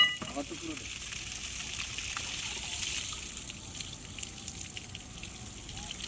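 Water flows steadily from a newly connected water line, a continuous soft rushing and trickling hiss heard close by, with voices talking faintly over it.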